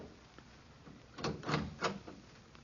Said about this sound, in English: I knocked on the apartment door